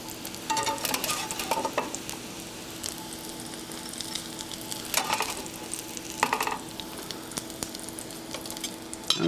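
Sweet potato pancakes frying in a pan, flipped to brown on the other side: steady sizzling and crackle throughout with occasional scraping and clatter of a utensil, close and continuous.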